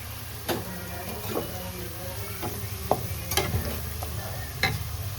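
Potatoes frying in oil in a kadhai while being stirred, a constant low sizzle broken by scattered sharp scrapes and clinks of the spatula, close up and fairly quiet.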